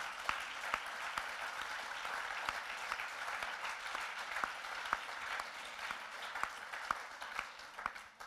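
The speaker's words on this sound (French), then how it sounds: "je vous demande en tout cas de les applaudir pour le travail" Quiet, steady audience applause at the official closing of a four-day festival, with a few sharper individual claps standing out over a soft, distant wash of clapping.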